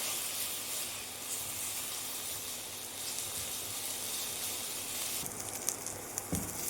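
Ginger garlic paste sizzling and frying in a pan for pav bhaji, a steady close hiss with faint crackles and a few stirring clinks near the end.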